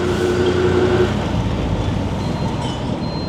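Loud, steady ambience at Negombo railway station, Sri Lanka: a train's deep rumbling drone with a brief tonal hum and faint metallic squeals, no voices.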